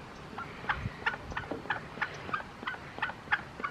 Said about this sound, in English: The duck won't even eat it.